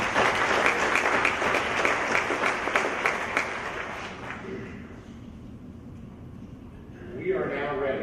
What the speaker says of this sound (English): One more round of applause for Dr. Bennett.